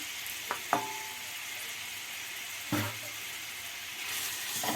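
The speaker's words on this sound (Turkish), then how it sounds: "Biraz kavuracağım kıymalarımı." About 200 grams of minced meat sizzles and crackles in sunflower oil in a pot, a steady close hiss with a few sharp clanks of a utensil against the pot near the start and again midway.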